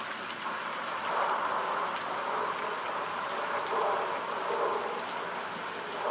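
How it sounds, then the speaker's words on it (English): Heavy rain pours steadily at Dover International Speedway, a dense, even hiss of drops on surfaces that stays loud and unbroken throughout. "It is still pouring rain here."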